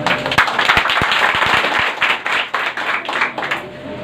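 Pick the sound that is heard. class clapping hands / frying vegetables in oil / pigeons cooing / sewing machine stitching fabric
class clapping hands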